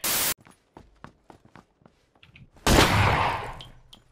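Video game gunfire: a sharp burst at the start, then soft scattered footsteps and clicks, followed by a louder, longer blast of shooting that fades out.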